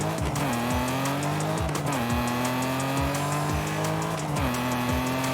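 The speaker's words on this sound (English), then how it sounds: "it's got that lovely old engine kind of noise" A Toyota 2000 GT in Forza Horizon 5 revs loud and close through repeated gear shifts, its engine note climbing and dropping several times with tire squeal in between.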